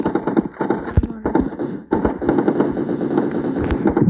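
Rapid automatic gunfire from a video game, dense crackling bursts with a brief gap before resuming, loud and busy, with game sounds layered throughout.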